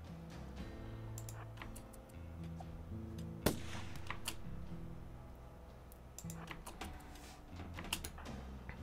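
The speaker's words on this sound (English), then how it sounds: "he's gonna shoot Lord Terror" A single sharp gunshot cracks out in the video game RimWorld, set against soft, scattered keyboard clicks and a quiet background hum.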